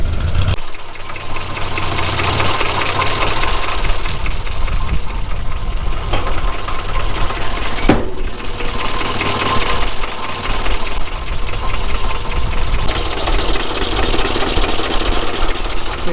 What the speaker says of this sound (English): This engine's not entirely happy,